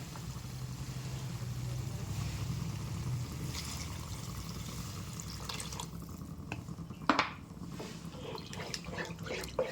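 Steady water pouring and splashing into a cooking pan for fish mustard curry, continuous for several seconds, then a brief clatter and some lighter dripping and tapping near the end.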